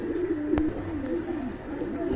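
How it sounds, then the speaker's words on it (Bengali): A pair of black shirtin pigeons coo softly and close by, a low, wavering call running continuously. "এক জোড়া ব্ল্যাকলেস শার্টিন কবুতর রয়েছে"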